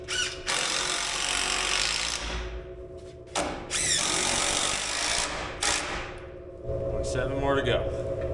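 A power drill drives screws into cheap wooden 2x3 boards while building a ladder on an S10 work truck, with several whirring bursts of a few seconds each separated by brief pauses.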